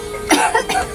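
A person coughs twice in quick succession, close and clear.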